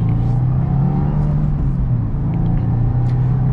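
A 2022 Subaru WRX with a manual gearbox accelerating in second gear, its engine a loud, steady low rumble with a droning hum building gradually, heard from inside the car.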